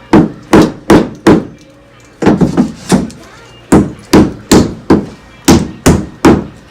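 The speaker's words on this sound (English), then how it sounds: "Hit your nail, hit it." Hammer striking nails into a wall during a shiplap project, loud sharp blows in quick groups of three or four with short pauses between, close by.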